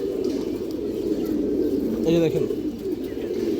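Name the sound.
pigeon cooing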